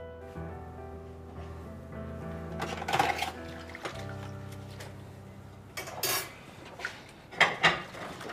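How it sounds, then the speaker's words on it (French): Dishes are being washed by hand: plates, pots and cutlery clatter and clink unevenly, with several sharper knocks and a low background hum. No voices are heard. "Mais pourquoi on doit faire la vaisselle?"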